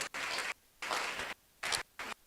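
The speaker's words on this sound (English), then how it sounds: "Please jam your hands together" Audience at a Wesley College 120th anniversary event clapping in four separate bursts, each around half a second long with short gaps of quiet between them, moderately loud and fairly close.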